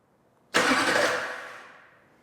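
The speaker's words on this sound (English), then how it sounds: "First spin on the starter." A Duramax diesel engine's starter spins for the first time on a build, a single loud burst of whirring that begins abruptly and fades away over about a second and a half, close and alone.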